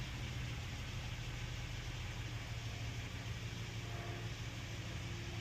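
A 2021 Hyundai Palisade idles quietly, a faint, steady low engine hum with a soft broadband hiss and no speech.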